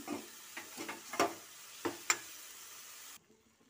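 Spoon scrapes and stirs through a spice masala of red chilli, coriander and turmeric powder with salt frying in a pan, water going in, with a few sharp clinks over a faint sizzle before it cuts off.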